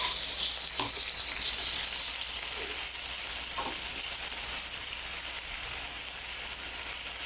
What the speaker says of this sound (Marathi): जिरं झालं की कांदा घालते इथे मी एक मोठा कांदा घेतला आहे